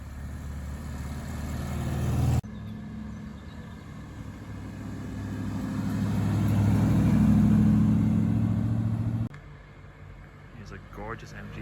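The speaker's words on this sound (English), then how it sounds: "Gorgeous MG Magnet coming." Classic MG Magnette car engine approaching and driving past, its low hum swelling to a peak and then dropping away, with people talking nearby.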